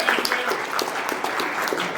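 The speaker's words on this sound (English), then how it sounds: "Round of applause for all our judges." An audience at a game jam claps for the judges, a dense, loud burst of applause filling the whole moment, with a voice faintly mixed in.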